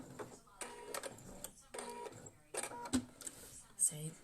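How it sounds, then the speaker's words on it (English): A malfunctioning home sewing machine stitches a button headband in short, rhythmic mechanical bursts that stop and restart, with someone talking over it close by. "my sewing machine is playing up something terrible"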